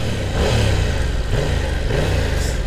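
A motorcycle engine revs loudly and steadily up close, with rising and falling pitch as the throttle is blipped a few times.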